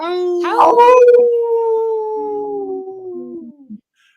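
A person's voice howls in a long, sliding wolf-like tone, starting rough and loud then trailing off over several seconds, imitating a wolf.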